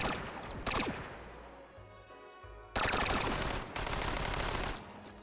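Gunfire from a henchman-style gun in the VR game Hot Dogs, Horseshoes & Hand Grenades, loud rapid bursts of shots separated by short pauses, with a low hum between them.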